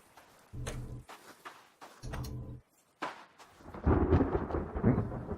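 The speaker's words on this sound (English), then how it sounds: "Oh, here we go. Now it's raining." Deep rolling thunder booms twice in the video game The Forest, then a steady downpour of rain hisses in, loud and close, with no voices.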